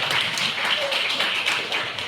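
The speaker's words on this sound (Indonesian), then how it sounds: "Tepuk tangan untuk beliau" An audience claps dense, steady applause at a farewell-and-welcome ceremony for the head of MTsN 4 Trenggalek madrasah, with a faint voice underneath.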